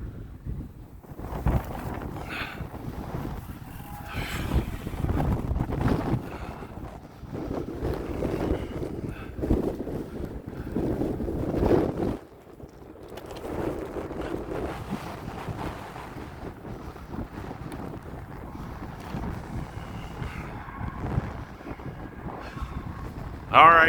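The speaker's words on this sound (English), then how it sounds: "before the wind tries to take off with it" Strong gusty wind buffets the microphone at an RC airfield where a Hobbyzone Aeroscout S is readied for takeoff, roaring in loud surges with a brief lull midway and someone talking intermittently over the rush.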